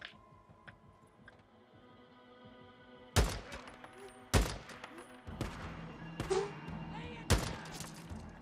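Gunfire in the video game Days Gone, four sharp, loud shots spaced a second or so apart over a low rumbling game soundscape, each with a short heavy tail.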